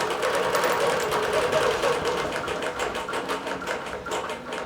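A computerized quilting machine stitches a border of flat black cotton, its needle hammering in a fast, steady, close mechanical rhythm that stays even from start to finish.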